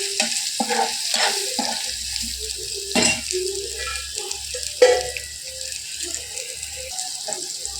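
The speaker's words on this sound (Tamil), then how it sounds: "இதை எண்ணெயிலேயே வறுக்கணும்." Tomatoes with chilli powder and salt fry in oil in a home kitchen, a soft sizzle broken by spoon stirs and scraping knocks against the pan, close and without speech.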